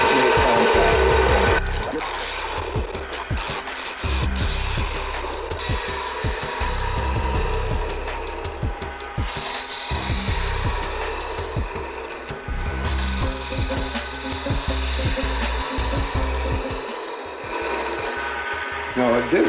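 Wood spins on a lathe as a cutting tool scrapes and chatters against it while turning a goblet, rough rhythmic grinding noise with occasional quiet speech.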